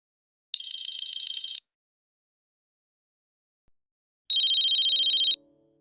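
A phone ringtone chimes in two loud bursts of repeating electronic tones, roughly a second each with a gap between, in an indoor drama scene; a faint low hum trails the second burst.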